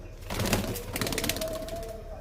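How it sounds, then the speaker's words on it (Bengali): Pigeons in a loft of Giribaz tumbler pigeons give soft cooing calls with some wing and body movement, close and steady over a low hum, with no talking. "এই দেখুন বন্ধুরা অনেক কটা পায়রা আছে"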